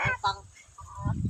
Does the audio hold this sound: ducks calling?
yes